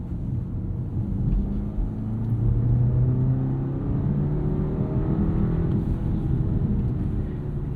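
A 2024 BMW 530i xDrive with the B48 engine accelerates gently, giving a steady, subdued engine hum and road rumble that swells slightly and holds even, with no talk over it.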